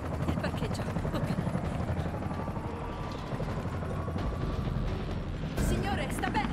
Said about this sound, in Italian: Un elicottero sta venendo a salvarci!